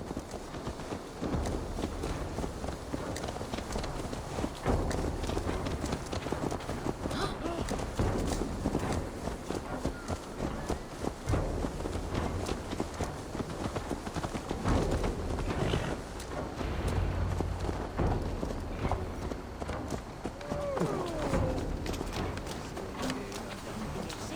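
Steady clip-clop of horse hooves plodding along in Assassin's Creed Valhalla, with creaks and light ambient noise throughout; no talking.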